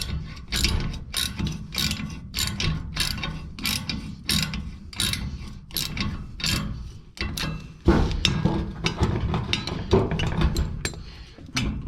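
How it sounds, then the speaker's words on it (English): Socket ratchet clicking rapidly in steady bursts as bolts are tightened on a rusted-out garden shed floor, close and distinct, with brief pauses between strokes and no talking. "She's gonna need might just torque them dino bolts in"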